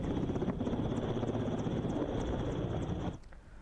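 Helicopter flying during a flood rescue, a loud steady rotor roar filling the scene that cuts down abruptly near the end, with no voices over it.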